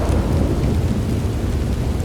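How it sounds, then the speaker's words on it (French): Thunder rumbling over steady rain in the Red Dead Redemption 2 video game, a loud, deep rolling boom blended with a continuous hiss of rainfall, heard alone without voices. "oh, le tonnerre là-bas."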